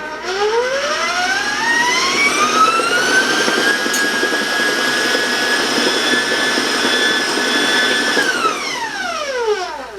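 An electric mixer beating chocolate cake batter whirs up to a high-pitched whine, holds steady at full speed for several seconds, then winds down.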